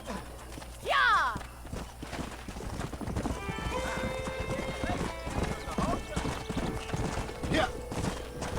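Horse hooves clip-clop at a steady walking pace in the Red Dead Redemption video game, with a whinny near the start and someone speaking over the hoofbeats near a ranch.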